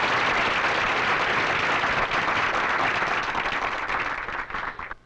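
A studio audience gives sustained, dense applause for the women bowlers of Top Star Bowling, Marion Ladewig and Judy Audsley. The clapping stays loud and even, then thins out and fades near the end.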